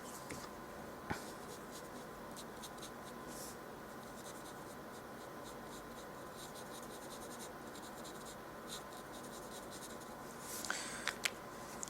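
A design marker's chisel tip scratches and sweeps softly across paper while a basic shape is rendered, with faint strokes and light taps against a quiet background hiss, close and alone.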